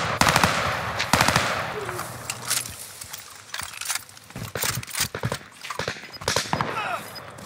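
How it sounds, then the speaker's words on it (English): Rapid bursts of automatic gunfire in a battle royale video game on the new Caldera map, several volleys crackling in quick succession with pauses between, loud and close, while players talk over the action. "Somebody else is shooting at him."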